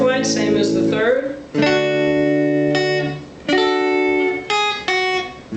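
Guitar chord-melody of the fourth line of Silent Night, with a few picked melody notes and then several ringing chords struck in turn, each sustaining and fading.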